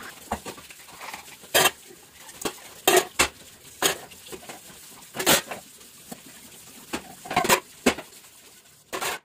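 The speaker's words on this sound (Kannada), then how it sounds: "ಈಗ ಪಾತ್ರೆ ತೊಳೆಯೋ ಪ್ರೋಗ್ರಾಮ್ ಶುರುವಾಯಿತು" Sharp clinks and clatters of dishes and pots being handled at irregular intervals, fairly close, over a low background of running water and movement.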